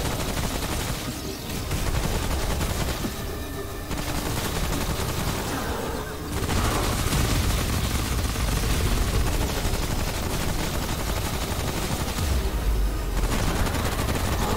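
Video game gunfire from Remnant: From the Ashes, with dense, loud rapid bursts and volleys that continue through most of the stretch. Brief lulls break up the firing.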